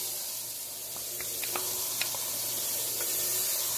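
Chopped onion hitting hot oil in a Power XL Stirmax multi cooker while making creamy chicken noodle soup, a quiet, steady sizzle and hiss with a few faint clicks, no talking.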